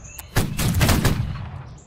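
A massed musket line fires a single volley in the Napoleonic-era game Holdfast: Nations at War: one loud, rolling crackle of overlapping shots that swells quickly and then fades out within about a second and a half.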